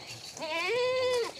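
A goat on a goat farm gives a single drawn-out, wavering bleat, close and clear, against quiet background.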